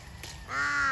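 A crow caws once, close and fairly clear, a short harsh call rising out of quiet rural background near grazing cattle.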